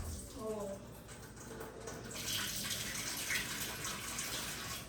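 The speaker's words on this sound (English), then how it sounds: "Let me go ahead and drain the corn with water." Running tap water rinsing and draining canned corn, a steady gushing splash over a sink that grows fuller partway through, preceded by a short voice at the start.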